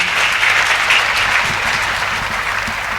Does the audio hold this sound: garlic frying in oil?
no